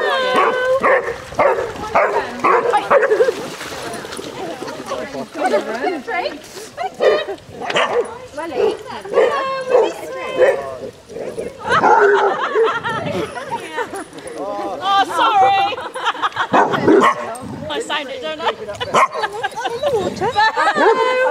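Basset hounds out on a group walk bark, yip and whimper repeatedly at close range, mixed with frequent talking from people nearby.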